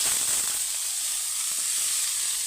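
Onions fry in a pan with an even, moderate sizzling hiss that carries on unbroken with no other sounds.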